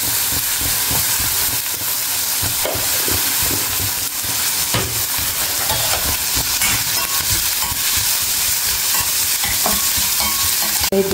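Onions, curry leaves and green chillies with turmeric fry loudly and steadily in a pan for an egg masala, a close, continuous sizzle with scraping stirs throughout.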